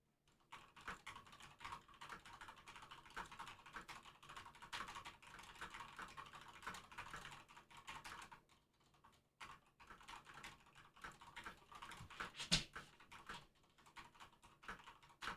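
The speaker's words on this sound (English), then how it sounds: "Typing noises." Steady, rapid clacking on a computer keyboard, continuous keystrokes close by with a brief pause midway, no talking.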